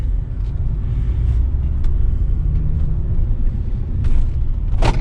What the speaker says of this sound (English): we're driving this truck and we're going to see how it feels on the road